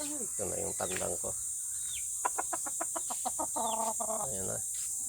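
Backyard hens and young roosters cluck and squawk close by in a Filipino yard, a run of rapid staccato clucks in the middle between longer cackling calls, over a steady high insect drone.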